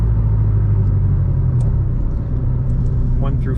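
Scion FR-S engine heard from inside the car as a loud, close, deep rumble pulling hard, with a brief dip as it shifts gears before building again.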